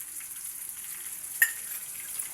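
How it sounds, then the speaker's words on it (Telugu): Ginger garlic paste frying in hot oil for a sesame curry, a steady soft sizzle with faint hissing texture and one brief stir clink, heard close and alone. "పచ్చి వాసన పోయేంత వరకు వేగనండి చూసారా ఎర్రగా ఇలా వేగలన్నమాట"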